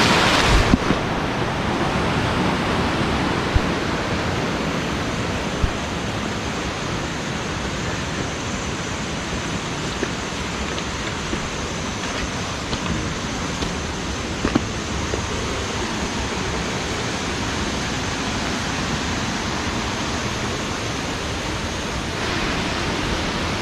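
A stream flowing through a forest in Himachal, its water rushing in a steady, broad hiss that stays loud and continuous throughout, with no voices.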